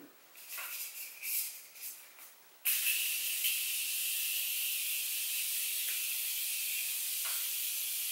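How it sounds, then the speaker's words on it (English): After a few soft handling noises, a Morphe Continuous Setting Mist bottle lets out one long, steady close-up hiss of fine spray that lasts several seconds. "So I'm gonna use my Morphe Continuous Setting Mist."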